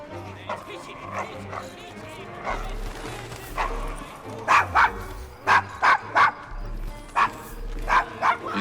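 A dog barks repeatedly in the rough streets of the Devil's Acre in Assassin's Creed Syndicate, sharp loud yips in clustered bursts near the end, with a low ambient game score and people talking beneath.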